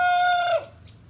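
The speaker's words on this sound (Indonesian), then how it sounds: "tampak berkokok dengan suara yang bagus" A pet rooster crows close and loud, one strong, clear call that holds steady and then drops off sharply, followed by near silence.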